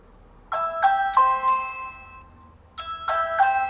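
Ring Video Doorbell Gen 2 pressed indoors, its chime ringing out as bright electronic ding-dong tones, one sequence then a second after a short gap, clear and close with no speech.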